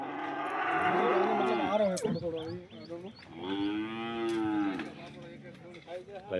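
Cows at a cattle market moo in two long, loud calls close by, separated by a short gap filled with rustling and lesser noises.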